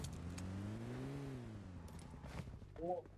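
A video game car in PUBG Mobile Lite revs and accelerates on boost with a rising, then falling whine, while a faint voice is heard briefly near the end.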